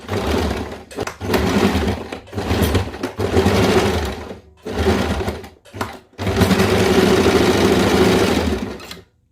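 A sewing machine stitches a folded four-inch piece of cloth into a homemade tea bag. Loud, close whirring runs start and stop repeatedly, with brief gaps between bursts, ending in one longer sustained run.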